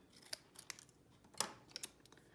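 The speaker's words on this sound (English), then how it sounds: "I'm just going to use my snips and cut it right down the middle" Craft snips cut through a paper lemon shape in a quiet series of short, crisp snips, about a dozen sharp clicks spread irregularly across the moment.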